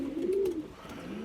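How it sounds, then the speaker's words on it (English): Pigeon cooing in a loft, a single soft rolling coo that rises and falls, close by, with faint rustling around it and no talking. "They're unbelievable pigeons, they're unbelievable."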